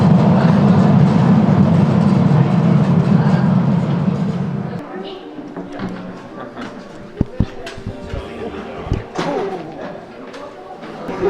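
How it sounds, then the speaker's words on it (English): A tourist train rumbles into a large show cave in Slovenia, a steady heavy rolling drone that drops away midway into quieter rattles and clicks of the carriages, with people talking. "I think this is probably my favorite part of the entire cave journey, the actual train ride in."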